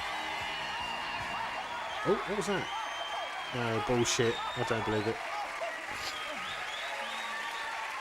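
A 1992 television studio audience at a light-entertainment show cheers and applauds in a steady wash of clapping behind close, louder voices of people talking over it.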